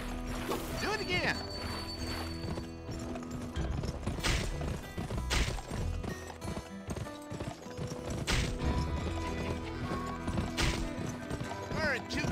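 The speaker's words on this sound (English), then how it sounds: "Press the sprint button to spur your horse." Horse hooves clip-clop at a sprint in a western video game, rhythmic hoofbeats mixed with game music, clanks and effects throughout, fairly loud and busy.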